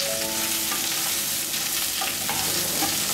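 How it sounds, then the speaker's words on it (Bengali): Ridge gourd strips and mixed vegetables fry and get stirred in a pan for a vegetarian curry, giving a loud, steady sizzle with scraping stirs throughout and no talking. "তারপর দেব লম্বা করে কেটে নেওয়া ঝিঙে। ঝিঙে দিয়েও ভাজা ভাজা করে নেব।"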